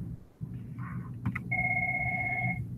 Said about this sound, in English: you probably hear that phone call